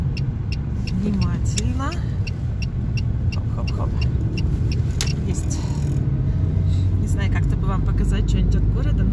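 A car drives through the streets of Salekhard in the Russian north in spring, its engine rumbling steadily as it signals and turns, with someone talking over it throughout.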